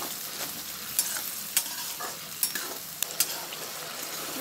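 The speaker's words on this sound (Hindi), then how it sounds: "यहाँ प्याज को अच्छे से भून लिया है" Onions sautéed in a pan make a constant soft sizzle, punctuated by a handful of crisp spoon scrapes and taps spaced across the stretch, close by and without speech.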